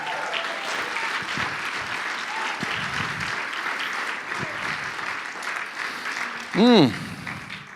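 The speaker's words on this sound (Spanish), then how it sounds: "Da un aplauso más fuerte al Señor," Congregation applause rings out through a church service, a dense, sustained clatter of many hands lasting throughout, with voices mixed in and a loud rising shout or cry near the end.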